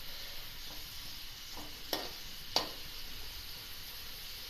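Onions are lightly sautéed in a pan, a soft steady sizzle broken by two sharp clinks of a spoon against the pan, faint and with no talking.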